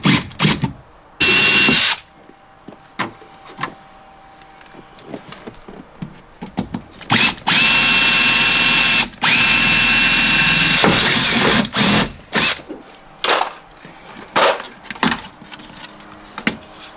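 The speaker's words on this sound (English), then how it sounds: "I'll just drill the rivets out on that speaker" A power drill whirs in several loud bursts, short and long, drilling out the rivets on a Golf GTI speaker, separated by clicks and clunks of metal parts between runs.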